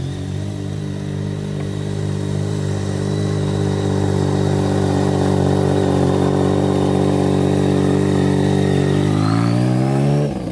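A rebuilt BMW cafe racer motorcycle runs close by with a loud, steady mechanical thrum, then rises briefly in pitch as the throttle is blipped near the end.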